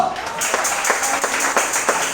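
Festive crowd applause at a church campaign's first-day celebration, many hands clapping steadily and fairly close throughout, with some voices mixed in.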